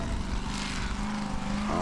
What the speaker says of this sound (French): Legend Nero équipé d'un V8 Chevy.